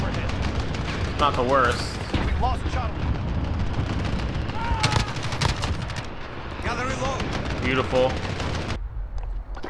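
Sniper rifle gunshots in a Call of Duty match ring out as sharp broadband cracks scattered through the scene, mixed with game effects under frequent excited talking from a player.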